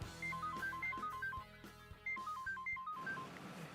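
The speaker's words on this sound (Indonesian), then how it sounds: "Bentar ya, nyokap gue telepon" Telephone ringing with a repeating electronic ringtone melody of quick beeping notes in two bursts, heard indoors at modest volume with no talking.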